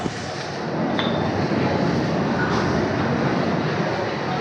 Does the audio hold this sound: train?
yes